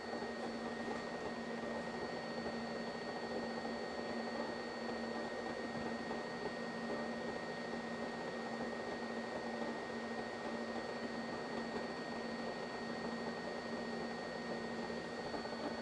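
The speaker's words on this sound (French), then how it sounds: "pendant que vous gravez comme ça, le petit ventilateur qui est au-dessus va se déclencher" A K-Bot V3 mini laser engraver runs with its small overhead cooling fan, a steady mechanical whir with a constant electrical hum and fan noise running unchanged throughout.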